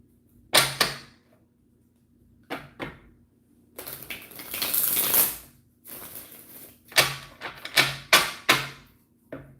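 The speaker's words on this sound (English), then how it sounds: "I try my best to shuffle on camera" Tarot cards being shuffled by hand during a live reading: sharp riffling bursts and papery slaps in short bouts separated by quiet gaps, close up and with no talking.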